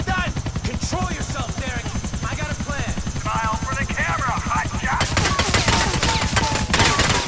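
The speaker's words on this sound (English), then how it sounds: "now the cops are shooting down from the helicopter" A police helicopter's rapid rotor chop throbs continuously in the video game GTA IV while bursts of gunfire crackle and voices call out, the firing growing denser toward the end.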